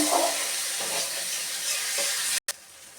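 Spice paste and chopped tomato frying in a pan for vegetable dal, a continuous bright sizzle with light stirring scrapes underneath, close and loud, and a very brief dropout near the end.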